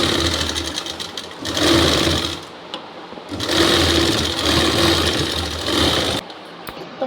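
A sewing machine stitches a Rajputi suit in long steady runs, a loud close whirring rattle that starts and stops twice before a brief pause and a final short burst.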